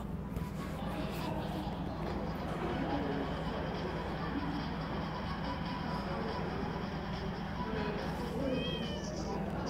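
Nyan Cat video game sound with faint meowing over a steady background hum, and a few rising chirpy meow-like tones late in the clip.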